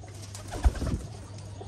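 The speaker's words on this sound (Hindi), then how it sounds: "कबूतर है जी दोस्तों, जो कि इंशाल्लाह हम उड़ाने लगे हैं आज" Pigeons give a short, soft burst of low cooing close by, a brief, quiet call with no talking.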